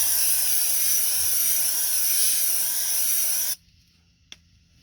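A can of aerosol brake cleaner sprays in one long, loud, steady hiss for several seconds, then cuts off abruptly, leaving near silence with a single faint click.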